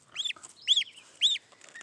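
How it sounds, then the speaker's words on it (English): Young geese on a homestead give three shrill, rising-and-falling calls in quick succession, close and fairly clear against a quiet background. "I sometimes wonder what I was thinking getting these little geese."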